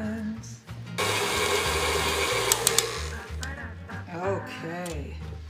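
A stand mixer with a paddle attachment churns oatmeal cream pie cookie dough after dry ingredients go in, a steady loud motor whir running throughout while someone talks over it.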